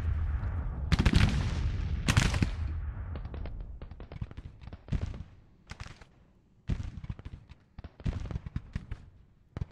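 Musket and cannon fire from a Civil War battle in the game Grand Tactician: The Civil War: two heavy booming blasts open, then scattered crackling rifle volleys follow at irregular intervals, some near and loud, others fainter.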